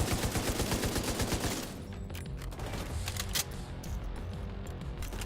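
Sustained machine gun fire in The Division 2, a fast, steady stream of shots that is loud at first, then continues as rapid, slightly more distant bursts with occasional sharp cracks.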